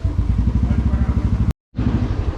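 A new, freshly serviced motorcycle engine putters with a steady pulsing rhythm while riding on a highway, cutting out abruptly for a moment before resuming.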